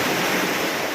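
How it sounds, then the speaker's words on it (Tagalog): Strong sea waves crash and wash at a shoreline where people are fishing, a loud, dense rushing roar with wind buffeting the microphone. "Malakas ang alon, no?"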